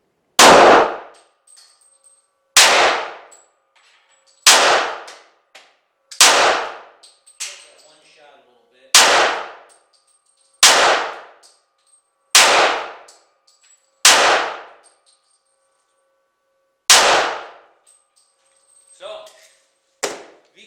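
A Caspian 1911 pistol fires V-crown ammunition, about ten loud, sharp reports spaced roughly two seconds apart, each ringing out briefly before a quiet gap.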